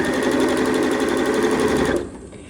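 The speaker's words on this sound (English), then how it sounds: "I'm doing a little pin stitch along that folded edge" Sewing machine running steadily as it pin stitches along the folded edge of a baby romper garment, a fast even whir close by that stops abruptly near the end.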